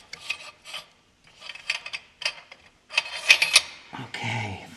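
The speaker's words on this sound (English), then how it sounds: "we're just gonna remove the last bolt" Exhaust bolt being removed from a Kawasaki Vulcan S during a Delkevic exhaust install, heard as close bursts of rasping, scraping tool strokes that come in short rhythmic clusters.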